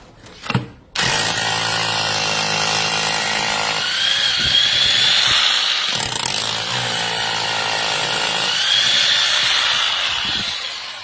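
A loud 1200-watt rotary hammer drill roars continuously after a brief start, drilling concrete with a steady grinding, hammering whine that wavers slightly in pitch, close and without voices.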